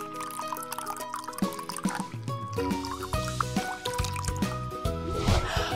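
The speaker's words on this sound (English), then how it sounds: "Let's start by pouring the liquid into the bowl." Liquid is poured into a bowl for a kids' science experiment, a soft splashing fill heard beneath steady, bright background music.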